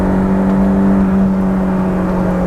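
A steady, loud Honda S2000 engine drone with a strong held tone, stock exhaust with a K&N intake, revving on a cold day, sustained throughout without talk.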